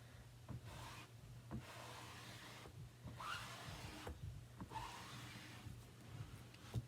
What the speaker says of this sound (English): I'm going to use this to scrape off all of that excess